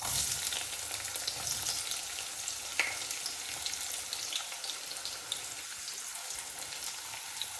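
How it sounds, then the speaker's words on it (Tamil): Onions fry in a pan with a continuous, fairly quiet hiss and crackle that holds steady throughout, a faint clink now and then, close by. "வெங்காயத்தை போட்டுருவோம்."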